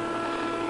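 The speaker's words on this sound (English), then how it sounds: "You're going to see the unofficial world record speed holder, essentially the world's fastest helicopter." A Sikorsky X-2 high-speed helicopter flies with a steady, loud, broadband rotor and engine roar, heard alone in a very brief burst.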